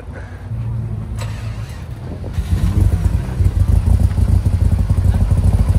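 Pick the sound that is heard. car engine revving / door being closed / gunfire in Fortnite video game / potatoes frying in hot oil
car engine revving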